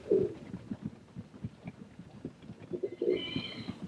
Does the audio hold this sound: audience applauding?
no